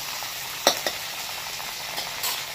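Chicken pieces frying in flavoured oil in a pan: a steady, close sizzling hiss broken by a couple of brief stirring scrapes, with no talking.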